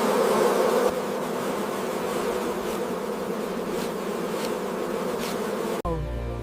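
A dense, steady drone of honey bees buzzing inside a hive, loud and close, continuing without a break before a sudden cut near the end.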